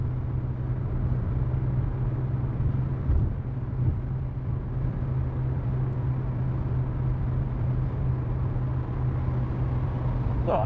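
Car interior on the German Autobahn while overtaking a truck: a steady, close engine and road rumble with tyre roar holds constant throughout, with no distinct pass-by and no speech.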